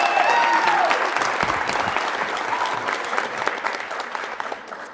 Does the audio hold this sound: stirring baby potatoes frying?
no